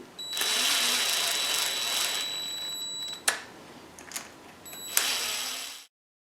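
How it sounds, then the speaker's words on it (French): An electric screwdriver runs in a long, loud, steady whir while driving a screw during work on a 2012 Versa. It is followed by a couple of short clicks and a second brief burst before stopping. "Donc, avec la visseuse électrique, le centre, à peine à côté."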